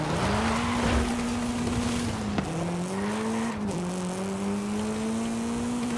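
A wide-body Ford Focus RS engine in Forza Horizon 5 holds a steady, loud drone, dipping briefly as gears shift twice, with a faint tire hiss beneath.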